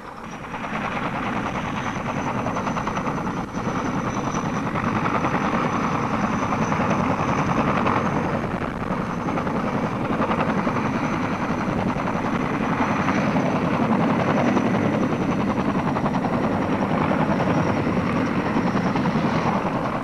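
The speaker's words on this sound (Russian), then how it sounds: "начиналось с облета станции на вертолете" A helicopter flying over the Chernobyl nuclear power station in autumn 1986, a steady loud rotor drone with a dense low thrum and a faint high whine, continuous and close for the whole stretch, with no voices.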